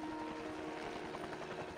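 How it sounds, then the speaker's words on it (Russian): Helicopter landing in James Bond 007: Blood Stone, a continuous rotor thrum with a steady whine, faint and even across the whole short stretch with no voices. "Рядом с вашей гостиницей садится вертолет."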